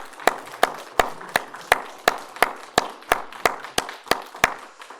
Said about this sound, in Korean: 우리 양욱성도님께 감사와 격려 박수를 함께 하기 원합니다